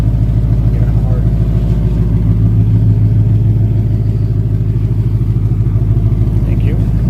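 A car engine running loud and close with a rough, pulsing low rumble held steady throughout, a person speaking briefly over it.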